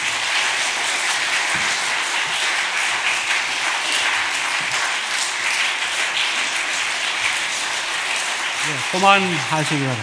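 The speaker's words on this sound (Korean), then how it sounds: "우리 뜨거운 박수로 우리 원로 목사님 모시도록 하겠습니다" A church congregation applauds steadily to welcome a retired pastor at an evening worship service, dense clapping filling the hall for about ten seconds before a brief spoken voice at the end.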